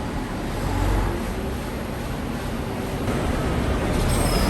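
A Bangkok city bus on route 95 drones steadily nearby at the Bang Khen bus depot, a broad continuous rumble with traffic noise and no talking.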